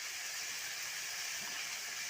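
Ground chili paste fries in a pan at an outdoor village cooking setup, giving a steady, bright sizzling hiss that holds unbroken and fairly close.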